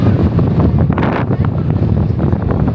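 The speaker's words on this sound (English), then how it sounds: "Woo, it's windy." Strong wind roars loudly and continuously across the microphone, a heavy, close buffeting rush, at Sandia Peak, 10,378 feet up.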